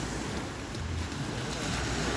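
Sea waves wash onto a sandy Adriatic beach with a continuous broadband roar and heavy wind buffeting the microphone, steady and loud throughout.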